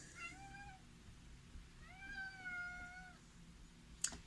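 An indoor cat gives two meows, a short one and then a longer drawn-out call, fairly close and clear, with a sharp tap at the end and no talking.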